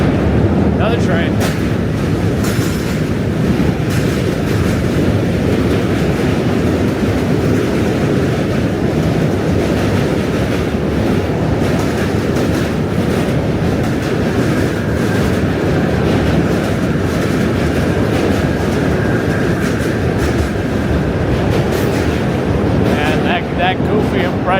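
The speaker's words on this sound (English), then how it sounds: "Another train." A train roars past in New York City, loud and near, a continuous heavy rumble with clattering rail noise lasting the whole stretch.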